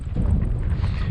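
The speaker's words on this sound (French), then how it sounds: "il y a un peu de vent" Brief gust of wind buffeting the microphone, a low rough rumble with no voices.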